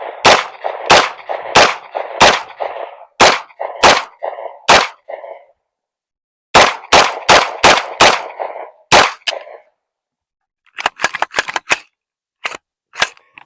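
A PSA PX-9 AR pistol fires in rapid strings of sharp, loud shots, a quick run of about ten, a pause, a second burst of about seven, then several scattered faster cracks, with no talking.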